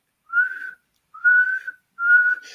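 Three short, clear whistles in a row, each a steady held note with brief pauses between, as if a person is imitating an audience whistling.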